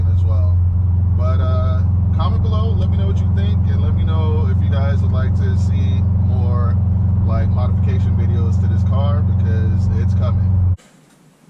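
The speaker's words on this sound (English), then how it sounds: "here's my final thoughts on the Invidia R400 Gemini exhaust. It sounds amazing." A 2021 Subaru WRX STI fitted with an Invidia R400 Gemini exhaust idles in a steady, deep droning rumble beneath continuous talking, then cuts off abruptly near the end.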